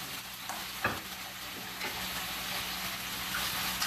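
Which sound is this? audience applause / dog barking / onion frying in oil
onion frying in oil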